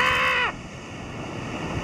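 Rough sea at Cadgwith on Cornwall's Lizard Peninsula churns into white water, a broad wind-blown surf roar, close and steady after a brief tonal sound fades out at the start.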